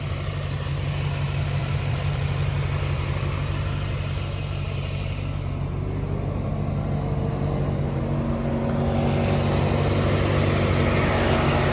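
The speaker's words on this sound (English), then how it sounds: "There's your tune port 350 engine." A 1990 Chevrolet Corvette Greenwood with a tuned port 350 V8 idling nearby, a steady low rumble with a constant drone and no talking, holding an even level throughout.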